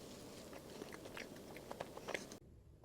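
Close, quiet chewing of a soft, chewy strawberry bread pastry with red bean filling and streusel topping, with faint wet bites and small crunches over a low background.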